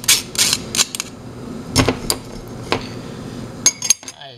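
A metal spoon scraping foam off a sifter while barley soup is made, producing sharp clinks, knocks and scrapes in irregular bursts, close by with quiet gaps between strokes.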